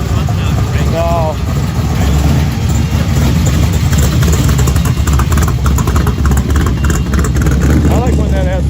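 A car engine idles with a loud, throaty exhaust among the 2023 roll-ins at the Frankenmuth Autofest in Heritage Park, rumbling close and continuous throughout while people talk nearby.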